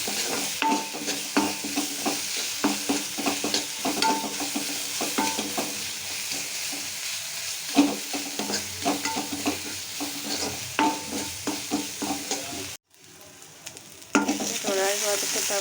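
A ground cumin-coriander paste fries in a pan while being stirred, with a continuous sizzle and repeated scraping strokes of a spoon. Everything cuts out briefly toward the end, then the sizzle returns.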